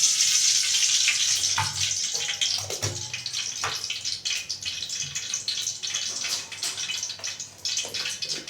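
White cooking oil pours into a hot kadai, a loud, close rushing pour at the start that gives way to a crackling, spitting sizzle with scattered pops and a few metallic taps. No voices.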